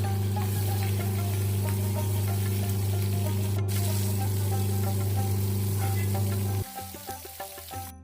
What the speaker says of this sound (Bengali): সর্ষের তেলের মধ্যে নুন হলুদ মাখানো মাছগুলো ছেড়ে দিলাম। এবার ভালো করে ফ্রাই করে নিলাম।